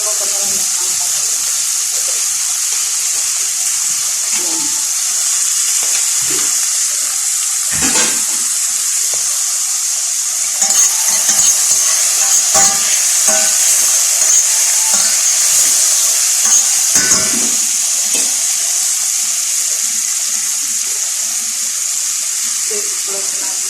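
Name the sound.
bitter gourd (ampalaya) being stir-fried in a pan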